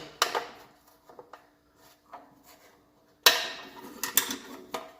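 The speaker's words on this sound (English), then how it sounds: "we're going to unclip it from these 2 clips. It clips up like this with a flat screwdriver." Flat screwdriver prying plastic clips loose on a Honda EB3500X generator, sparse close clicks and scrapes, then a sharp snap and a busier cluster of clattering handling sounds.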